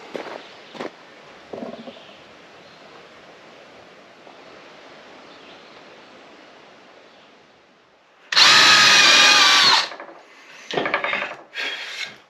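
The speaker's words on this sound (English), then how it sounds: "I'm drilling the holes where the screws got to go to mount the cross beam to the shutter" Close-up power drilling of screw holes into wooden shutters: one long, loud whirring burst, then two shorter bursts after a quiet pause.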